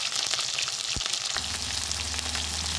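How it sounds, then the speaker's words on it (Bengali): Onions dropped into hot oil for a chicken curry give a loud, continuous frying hiss, with a dull thump partway through and a low hum underneath afterward. "এখন তেল গরম হয়ে গেছে। এখন আমি পেঁয়াজ দিয়ে দিব।"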